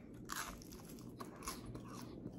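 Close, crisp crunching bites into the crunchy edge of a Papa John's pizza, a few crackly chews in quick succession, faint and with no talking.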